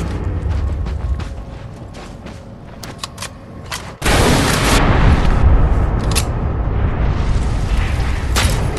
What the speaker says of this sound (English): Okay, the left mortar's reloaded.